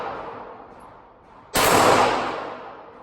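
A burst of gunfire at a shooting range, quiet background then a sudden loud sustained blast with a decaying tail, close and alone without talk.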